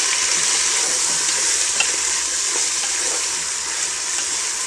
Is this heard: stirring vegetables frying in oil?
yes